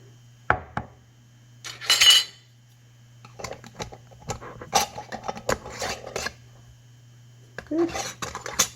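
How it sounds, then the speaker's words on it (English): Metal lid being screwed finger-tight onto a glass canning jar of Hoppin' John, with clinks and scraping rubs in short bursts at close range over a low steady hum. "put the lid on, finger tight"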